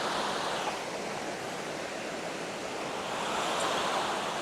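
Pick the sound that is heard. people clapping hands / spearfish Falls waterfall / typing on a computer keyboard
spearfish Falls waterfall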